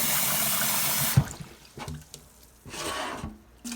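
Tap water runs steadily over wild bird seed millet being rinsed for soaking, then breaks into shorter splashing pours and trickles with brief pauses, close by.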